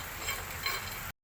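Long pepper (thippali) dry roasting in a pan over a low flame, a soft, steady hiss and light rattling crackle, faint and continuous before cutting off abruptly.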